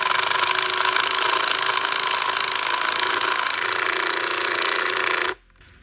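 A power driver sinks deck screws into a cracked wooden cabinet door during a repair, one loud, steady whirring run that holds for about five seconds and then cuts off abruptly.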